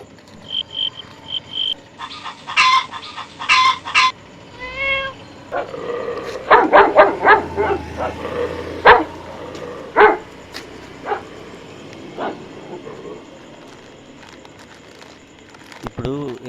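A street dog being fed gives sharp yips and short barks in bursts, close by, mixed with people talking and some whimpering sounds.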